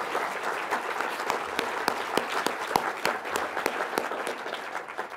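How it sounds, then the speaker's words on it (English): Audience applause at the 2016 ADG Awards ceremony, a dense, steady round of clapping from a large crowd that holds at an even level throughout, with a few sharper individual claps standing out near the front. "Could you give them a round of applause?"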